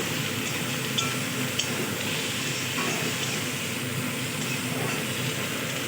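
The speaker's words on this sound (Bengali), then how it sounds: "আদা বাটা একটু ভেজে নিয়ে দিয়ে দিলাম টমেটো কুচি" Chopped tomato dropped into hot oil with fried ginger paste, giving a steady, loud broadband sizzle and hiss that runs unbroken throughout, with a couple of faint clicks.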